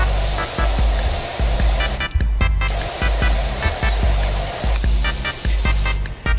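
A power washer blasts a dirty grill in the video game Power Wash Simulator, a loud continuous roaring spray with rhythmic low pulsing and brief drops in the hiss.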